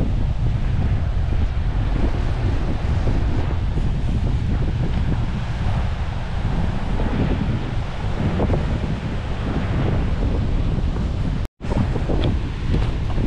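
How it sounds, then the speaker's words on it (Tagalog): Strong wind buffeting the microphone at a seashore where boats are pulled up, a constant loud roaring rumble with surf beneath, unbroken except for a brief dropout near the end. "Kaso nga lang, malakas ang hangin."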